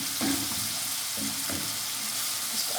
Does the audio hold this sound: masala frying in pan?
yes